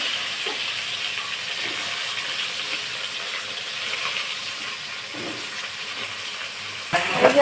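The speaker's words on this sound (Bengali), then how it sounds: "আমি ভেজে নিচ্ছি ইঁচড়গুলো" Pieces of young jackfruit fry in hot oil in a wok with a loud, continuous hissing sizzle, broken near the end by a sudden clatter of utensil against metal.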